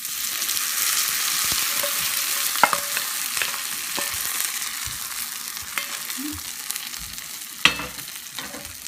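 Ground beef curry fries in a pan with a steady, gentle sizzle while a spoon stirs it, scraping and knocking against the pan at intervals, close and moderately quiet.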